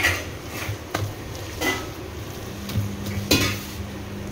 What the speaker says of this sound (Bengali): তেল গরম হয়ে গেছে, চলো বড়াগুলো দিয়ে দিই